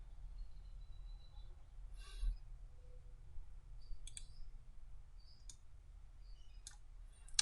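Computer mouse clicks while working in CAD software, a handful of sharp, isolated clicks spaced irregularly over a quiet low hum, fairly close and soft, with no talking.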